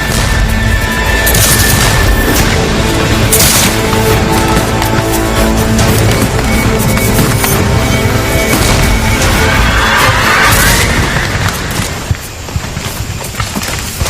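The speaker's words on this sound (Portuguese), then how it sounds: "o inimigo atirou cegamente." Muskets fire blindly at night in an American Civil War battle of 1861, a dense, continuous barrage of booming shots and crashes that stays loud for about twelve seconds and then thins out near the end.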